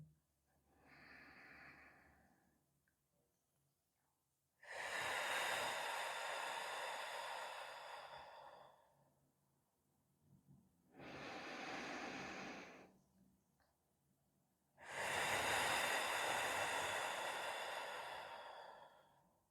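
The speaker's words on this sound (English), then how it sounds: "Exhale through the mouth. Use your abdomen to press out the air." Slow, deliberate exhalations through the mouth during a relaxing breathing exercise, three long airy breaths out separated by quiet pauses, close and soft.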